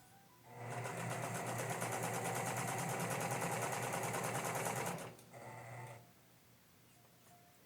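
A sewing machine stitches the side seam of a 1950s-style dress, a steady close whirring run of several seconds, then a short quieter burst of stitching.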